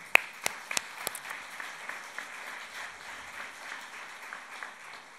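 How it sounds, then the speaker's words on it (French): Audience applause at a political support rally in Ajaccio, a dense patter of many hands clapping at moderate distance, with a few sharper claps near the start, steady throughout. "on peut les applaudir"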